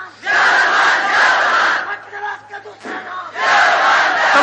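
A large crowd at a religious gathering chants slogans in loud, rhythmic bursts that swell, briefly ease, then surge again, a roar of many voices close and filling the space.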